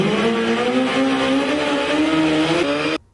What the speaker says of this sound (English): The Ghost Rider's Turbo Busa is estimated to produce about 500 horsepower